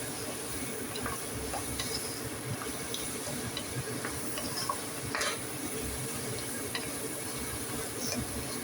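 Food being stirred while it cooks in a pan, a soft continuous sizzle with scattered scraping and clinking from the utensil, steady and close, no voices.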